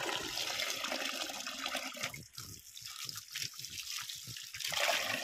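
Water pours and splashes steadily into a pot while local chicken cooks with bamboo shoot, then breaks into shorter intermittent trickles and splashes, close and fairly loud.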